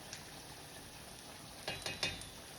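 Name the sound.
homemade fries frying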